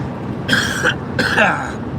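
Two harsh, raspy coughs come close together, each a short rough burst, loud and near.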